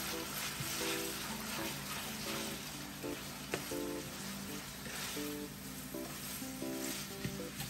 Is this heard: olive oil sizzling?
yes